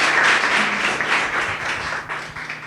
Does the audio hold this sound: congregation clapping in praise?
yes